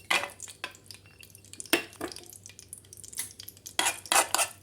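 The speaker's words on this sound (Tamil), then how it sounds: "ஃபஸ்ட்டு இந்த நட்ஸை நம்ம ஃப்ரை பண்ணி எடுத்துக்கலாம்." Nuts fry in melted ghee for jackfruit halwa, with a faint sizzle under repeated clinks and scrapes of a spoon against the pan. The clatter comes in irregular bursts, several of them close together near the end.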